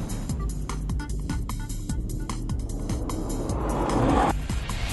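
A 2009 Nissan GT-R accelerates hard on a race track, its engine note climbing through the gears with sharp shift breaks and swelling louder toward the end, recorded close.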